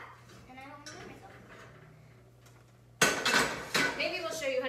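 Cast iron skillets are pulled out and handled, producing a sudden loud metallic clatter and scraping after a stretch of quiet conversation, with voices continuing over the clanking.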